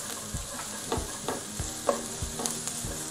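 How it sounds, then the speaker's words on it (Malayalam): Onions sautéing in a pan for a Kerala beef kumbanadan, a soft continuous sizzle punctuated by regular scraping stirs of the spoon, close and fairly quiet. "ഉള്ളി ഒരുവിധം വഴണ്ട് വന്നിട്ടുണ്ട്."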